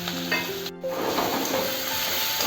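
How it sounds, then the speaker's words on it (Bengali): Sliced onions sizzle steadily in hot oil left over from frying fish, a dense continuous crackle with a brief stir and clatter near the start, close and loud with no talk. "আমি এই পেঁয়াজটা ভাজার জন্য তেলের মধ্যে দিয়ে দিচ্ছি"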